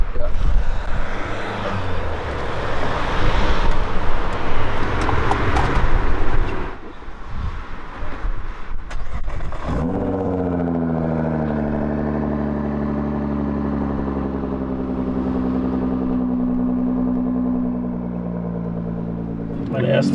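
A stock Nissan GT-R tuned to 700 hp roars hard under acceleration, then settles into a steady, rising engine drone that fills the rest of the stretch.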